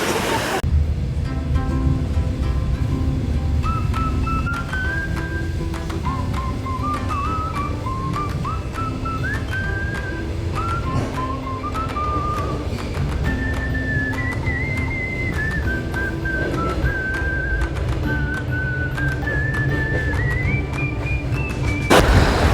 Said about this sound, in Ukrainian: Щось на морі вітер.